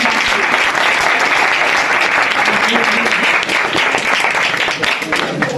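A church congregation gives loud, sustained applause, dense clapping filling the room from start to finish, with voices mixed in beneath it.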